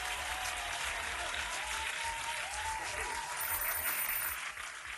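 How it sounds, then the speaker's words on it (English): Sustained applause from a group of people at a practice session, steady and fairly loud throughout, tapering slightly at the very end. "Round of applause."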